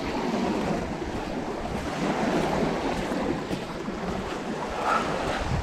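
Sea waves break and wash on a beach along a fishing shoreline, a loud, continuous surging roar with rolling swells and strong wind buffeting the microphone, with no voices.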